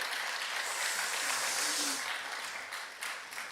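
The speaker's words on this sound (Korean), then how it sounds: "우리 교회 모든 여성들을 위하여 박수를 한번 치겠습니다." A church congregation claps together during a Sunday service, a dense burst of applause rising and fading over a few seconds, fairly distant, with faint voices underneath.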